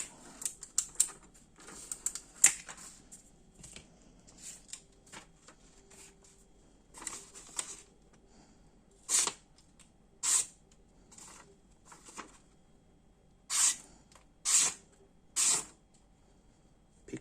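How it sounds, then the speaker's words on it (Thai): Benchmade 133 Infidel knife slicing through paper: a series of short, crisp rasping cuts, some isolated and some in quick clusters, close and fairly quiet with no speech. "ดึงออกมาตัดกระดาษให้ ดูนะครับ"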